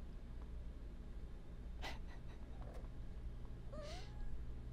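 A pet cat meows indoors, two short rising meows a couple of seconds apart, faint and close over a steady low background hum.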